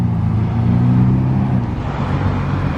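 Ferrari cars from a French dealership rally set off in Monaco, giving a loud, close, steady engine rumble with low revving and no voices.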